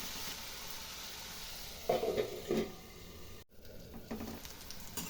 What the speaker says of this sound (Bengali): এবার ঢাকা দিয়ে বেগুনটা আমি ভেজে নিব।